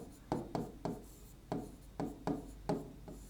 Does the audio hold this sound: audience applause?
no